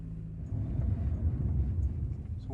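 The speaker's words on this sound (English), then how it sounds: "Put it in reverse. We're backing out." A project car on its first test drive backs out slowly in reverse, a steady low engine rumble running close and even for a few seconds with no talk over it.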